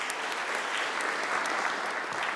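Steady conference audience applause at a parliamentary budget officials' meeting in the Scottish Parliament, even and continuous from start to finish with no voices over it.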